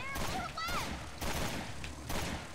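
Gunfire in Resident Evil: Revelations 2, with bursts of shots in loud, broad blasts at regular intervals over a dense game soundscape, while voices talk intermittently.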